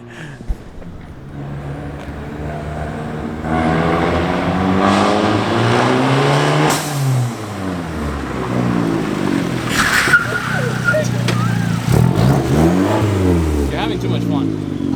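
A small push car with a slight exhaust leak revs loudly and continuously at close range, its engine pitch climbing and falling in repeated sweeps while voices talk over it.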